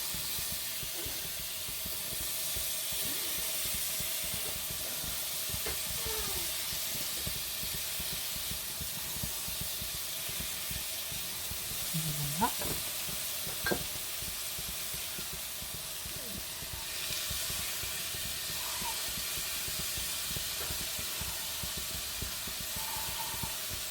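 Pollock fillet simmers in spiced coconut milk with lime juice, giving a steady, even hiss and sizzle from the pan throughout, with a few faint clinks and bubbling pops.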